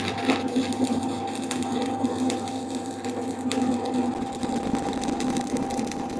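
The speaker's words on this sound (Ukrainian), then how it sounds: "Зараз ще один електрод попробую. Я просто електродами зварюю раз в рік." A CastoARC stick welder at 100 amps burns an electrode, giving a steady crackling, sputtering buzz with irregular snaps over a low hum. No one speaks.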